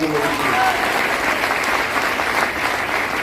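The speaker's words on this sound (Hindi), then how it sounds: "हमारे केशव रावत जी पर जोरदार तालियां" An audience at a motivational seminar in Gorakhpur gives hearty, sustained applause for Keshav Rawat, a dense, even roar of clapping with a brief voice heard at the very start.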